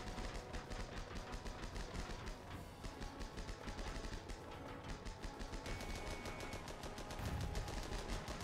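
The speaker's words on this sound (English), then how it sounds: "That MG fire is really working for us, though." Machine gun fire in the Armored Battle Crew trench warfare video game runs as continuous rapid bursts, loud and dense, with overlapping shots and battlefield noise throughout and no talking.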